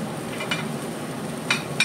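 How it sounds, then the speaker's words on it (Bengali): Carrots, beans and cauliflower fry in ghee with a soft close sizzle, broken by a few brief scraping stirs of a spatula in the pan, no voices. "তো ঘি দিয়েই বানাবো। এই যে সবজিগুলো একটু একটু ভেজে নেবো।"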